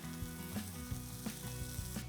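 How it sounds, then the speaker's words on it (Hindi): Chopped tomatoes sizzle in a frying pan with golden potatoes for an omelette, a soft, steady frying hiss with light scattered taps. "अब नेक्स्ट इसके अंदर जाएंगे चॉप किए हुए टमाटर।"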